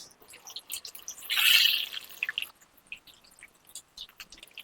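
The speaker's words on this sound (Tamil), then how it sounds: "இந்த மாதிரி ஸ்ப்ரெட் ஆகுற மாதிரி நம்ம பிசைஞ்சு விட்டுறணும்" Hands knead chicken pieces in squeezed lemon juice marinade, giving a short wet squelching burst in the middle, then soft scattered drips and squishes, close and fairly quiet.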